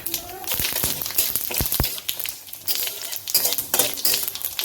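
Dried red chillies and cumin seeds sizzling and crackling in hot oil with onion in a pan, under irregular stirring clatter, with a voice talking now and then.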